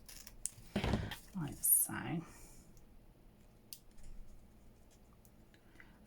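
Scissors snip through paper for a collage journal card, a few crisp close cuts at a quiet level with a soft voice talking around them.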